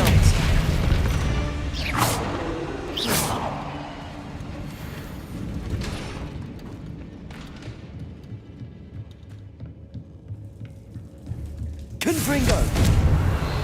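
Booming spell blasts in a wizard video game, a few heavy bursts near the start and another at the end, separated by a quieter stretch of rumbling ambience.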